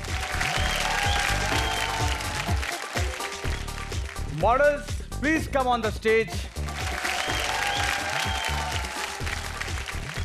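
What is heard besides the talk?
studio audience applause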